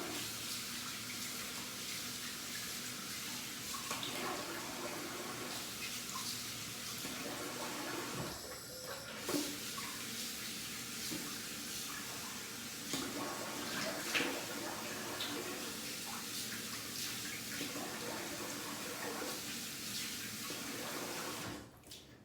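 Tap water runs steadily over a bar of soap being rinsed, a continuous splashing hiss lasting the whole stretch with brief shifts as hands move under the stream.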